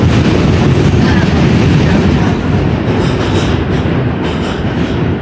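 New York subway train running loudly at close range, a dense, steady rumble and rattle of wheels on track filling the whole stretch without pause or voices.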